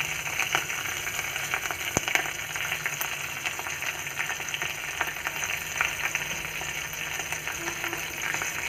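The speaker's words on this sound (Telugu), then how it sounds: "కరివేపాకు వేసుకొని" Curry leaves crackle and fry in hot oil in a kadai, a dense, continuous sizzling hiss with scattered sharp pops, close and fairly loud, with nobody speaking.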